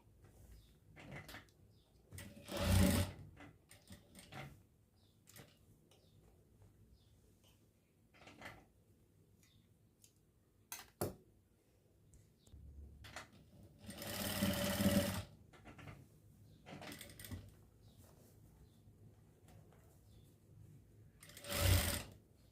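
Short bursts of a sewing machine stitching a neck design on a garment, each a few seconds of close mechanical whirring, separated by quiet handling and fabric-turning sounds.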